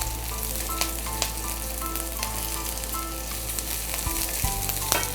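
Sliced onions sauté in hot oil in a pan for egg kurma, giving a steady close sizzle and crackle with occasional stirring clinks and light knocks, no voices over it.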